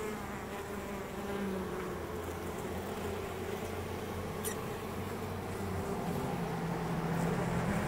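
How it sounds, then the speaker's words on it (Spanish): A steady droning buzz of many bees swarms around a large, well-filled beehive, close and continuous with no talking. "Para que vean, tremenda colmena esta."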